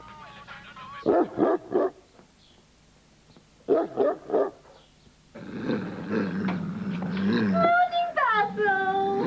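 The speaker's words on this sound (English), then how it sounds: "Could you get the dog down, please? It's only playing, love." A dog barks in short bursts, then whimpers and yips in rising whines, fairly close and alone without talk.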